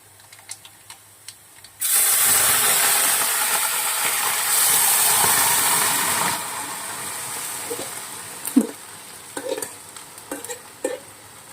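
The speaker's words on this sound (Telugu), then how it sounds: "ఈ మునగాకు తాలింపు వేగింది ఇందులో వేసుకోవాలి" Drumstick (moringa) leaves dropped into a hot tempering in a pan: after a few soft ticks, a sudden loud hissing sizzle bursts up, holds for several seconds, then fades into quieter crackles and clinks.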